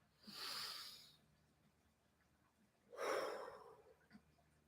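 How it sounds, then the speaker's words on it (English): Two slow, audible breaths, a long inhale then a later exhale, each rising and fading with quiet pauses between, close and clear with no talking. "Take a deep breath with me."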